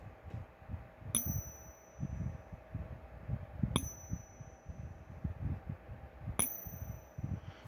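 Three bright metallic pings of dropped silver coins ring out at steady intervals, each leaving a short high shimmer, over a low murmuring rumble in the background.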